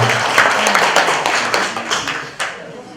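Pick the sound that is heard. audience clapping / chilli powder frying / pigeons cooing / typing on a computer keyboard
audience clapping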